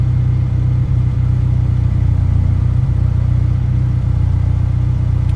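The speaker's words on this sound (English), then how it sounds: "Let's give it some gas." A right-hand-drive Honda Integra engine holds a steady, loud, droning rumble under light throttle, close by and continuous, with no clear rise or fall in pitch and no voices over it.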